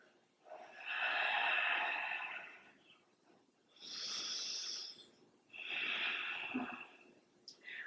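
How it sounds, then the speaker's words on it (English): Slow, deep breathing held in a yoga downward facing dog during a Sun Salutation A: three long, close breaths with a soft airy rasp, swelling and fading at an even pace, with short quiet gaps between them and no talking. "We'll take a couple of breaths here."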